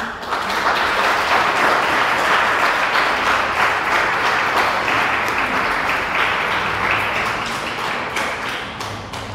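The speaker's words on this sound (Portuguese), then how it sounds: "Você pode dar um aplauso a Jesus?" A church congregation claps in sustained, dense applause that stays loud for most of the stretch before tapering slightly at the end.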